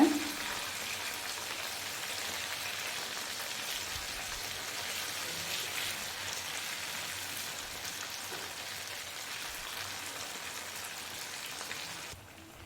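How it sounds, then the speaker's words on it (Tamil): Fish frying in a pan over a medium flame, giving a steady, even hiss and crackle of oil that carries on close by and cuts off abruptly at the end. "மீடியம் ஃப்ளேமில் வச்சு ஃப்ரை பண்ணிக்கோங்க ஒரு பக்கம் வெந்ததும் மாற்றி போட்டுக்கோங்க"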